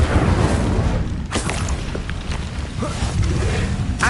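The Incendio fire spell bursts in the Hogwarts Legacy video game, a steady loud roar of rumbling noise broken by a few sharp booming blasts.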